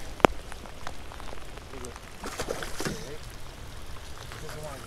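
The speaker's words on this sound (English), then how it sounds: "In the rain." Rain patters steadily on a river around a small fishing boat, a soft continuous hiss of drops, opened by one sharp knock and with faint movement and murmured voices underneath.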